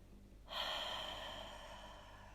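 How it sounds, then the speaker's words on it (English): A deep breath out through the mouth and nose during a yoga class, a single soft, breathy exhale that starts abruptly and slowly fades over about two seconds, close and quiet with no talking. "take a few deep breaths here, breathing out through your mouth and through your nose."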